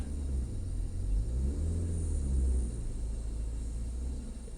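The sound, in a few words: car engine revving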